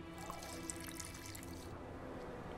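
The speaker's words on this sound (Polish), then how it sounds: "może wlej do kolby wodę" Water pours and trickles into a flask in The Witcher 2 video game, a faint, steady liquid splashing that thins out toward the end.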